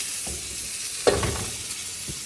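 Cleaned calf trotters are dropped into a hot, dry pot with no oil, and a brief sharp sizzle bursts out and hisses softly before fading, with a second fainter sizzle shortly after.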